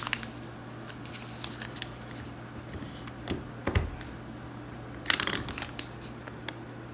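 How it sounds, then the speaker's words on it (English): A partially restored Pilot 402 stapler with a rubber band recoiler stapling 8 sheets of paper, heard as a string of crisp paper rustles and mechanical clacks, with a firmer crunch near the middle and a busy clatter later on. "Stapled so easy, I didn't know it was stapled it all the way."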